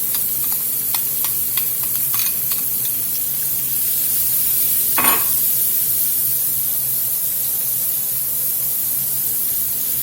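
A medium diced onion sizzles loudly and steadily in a pan coated with browned beef fond, with a few light utensil taps early on and one brief clatter midway.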